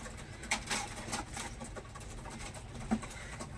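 Pigeons in a loft where wild birds are crowding out the tame ones give soft, low coos amid faint rustling and a few flutters, nearby but quiet.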